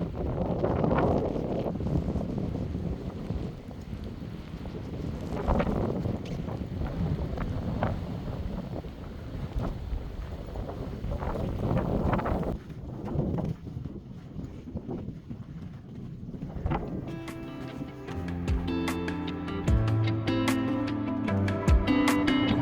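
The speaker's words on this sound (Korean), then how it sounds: "강한 바람 때문에 나무에 붙어 있던 얼음 조각이 날려 얼굴이 따갑습니다" Strong winter wind rushes across a frost-covered mountain, buffeting the microphone in loud gusts while ice blows off the trees.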